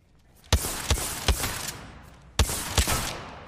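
Gunfire in the video game Apex Legends comes as two short bursts of sharp, punchy shots, three and then two, with echoing tails. The shots are fairly loud and no one speaks.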